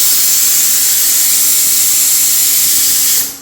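A pressure cooker vents steam over green gram on a home stove, a loud, steady, high hiss lasting about three seconds before cutting off abruptly.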